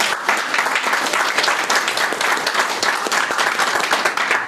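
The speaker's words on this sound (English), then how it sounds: "so let's give them a round of applause" A crowd at an evening event applauds its sponsors, steady close clapping from many hands that runs unbroken and fairly loud throughout.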